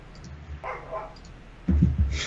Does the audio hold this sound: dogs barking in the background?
yes